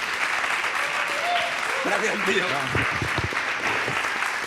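Steady audience applause greets a guest at a live interview event, a constant bed of clapping running under a man's brief spoken thanks and other voices.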